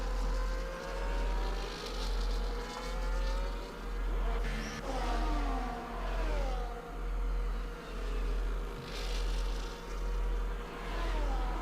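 Race cars in a sim racing league qualifying session at a Saudi Arabia circuit, engines droning steadily at a moderate distance with rhythmic surges in pitch as cars head out onto the track, no talking.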